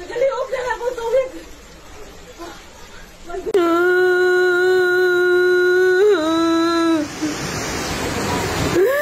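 Floodwater rushes in a steady broadband roar during a flood in Villa Azalea, Liloan, while a voice wails and cries loudly over it in a long, sustained tone.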